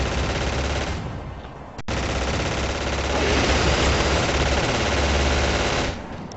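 Sustained automatic gunfire in a shooter video game, loud dense bursts running almost continuously, with a brief break near the start.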